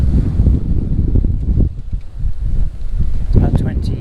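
Strong wind of about 20 to 25 knots buffets a sailboat at sea during an Atlantic passage from the Canaries to Cape Verde, a steady loud roar with microphone gusts and occasional swell noise, with some voice underneath.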